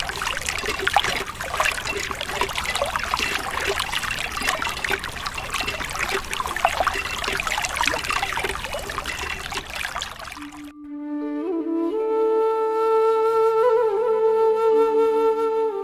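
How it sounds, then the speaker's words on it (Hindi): Tube well water trickles and splashes steadily into a miniature pond on a tractor farm diorama for about ten seconds, close and continuous, and then gives way to a tonal musical passage. "ट्यूबवेल के पानी से ये तालाब"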